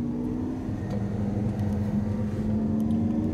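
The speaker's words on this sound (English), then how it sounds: "this is the Lamborghini Aventador against the Ferrari F12. It's a rolling start from 50 kilometers per hour" Lamborghini Aventador racing a Ferrari F12 from a rolling start at 50 km/h, heard as a steady, droning engine note from inside or near the cars, constant and moderately loud with no talk.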